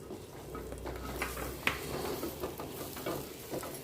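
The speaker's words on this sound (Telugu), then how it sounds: "ఇప్పుడు ఆయించి పెట్టుకున్న ప్రాన్స్ని రొయ్యల్ని వేసుకుంటున్నానండి" Raw prawns drop into a hot pan with oil and curry leaves for a prawn curry, setting off a quiet, steady sizzle with stirring scrapes and one sharp utensil clink.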